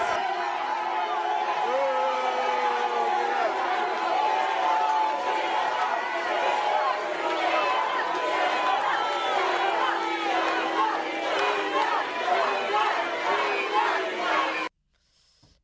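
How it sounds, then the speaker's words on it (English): Crowd at a Hillary Clinton event in Texas booing a heckler, a dense sustained roar of many voices with shouts and chatter mixed in, loud and continuous before cutting off abruptly near the end. "A perfectly good question to which the crowd started booing"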